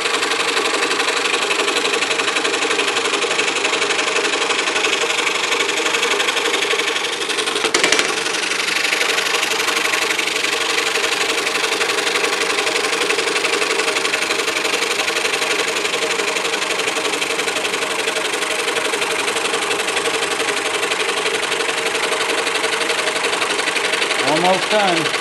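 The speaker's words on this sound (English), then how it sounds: "I need to drill the center hole out for the main shaft" Steady, loud drilling of a center hole through a wooden scroll-saw stacked star piece for the main shaft, a continuous whirring drone lasting throughout with a brief bump midway.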